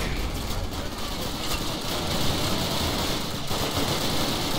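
Dense gunfire in the Call of Duty: United Offensive video game, rapid machine-gun bursts and shots rattling continuously amid loud battle noise.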